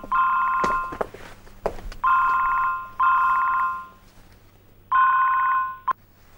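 A telephone rings in repeated electronic trills, four bursts of about a second each separated by short pauses, with faint footsteps and knocks in between and no talk.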